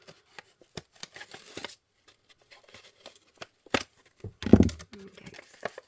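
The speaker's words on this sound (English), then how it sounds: "Let's get the scissors on it." Scissors snip through packaging for a matchbox-style gift box, giving a few sparse, quiet clicks and crinkles and then a louder burst of cutting near the end, with no talking.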